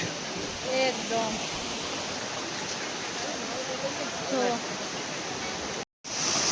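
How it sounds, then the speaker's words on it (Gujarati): Heavy water pouring at the Jatashankar waterfall near Bhavnath, Junagadh, a steady broadband roar filling the scene, with voices talking over it at moments and a brief dropout near the end. "જોરદાર પાણી પડે છે"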